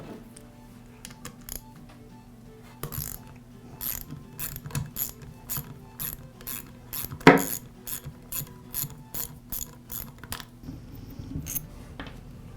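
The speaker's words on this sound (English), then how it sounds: "the next step is to remove the head bolts" Cylinder head bolts being removed from an air compressor pump with a ratchet wrench, a long series of quick, crisp clicks in bursts, close and fairly loud against a quiet background.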